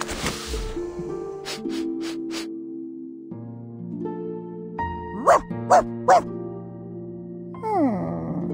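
A puppy in the game Reverse: 1999 gives several short yips and barks, including a quick run of three sharp barks, set over bright tonal game music.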